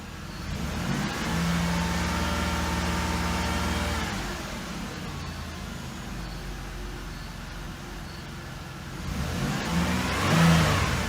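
A 2006 Chevrolet Impala engine, checked for a failing oil pressure sensor, revved to high RPM while parked, with a loud steady hum that rises, holds, eases off and surges again, heard close with no talk.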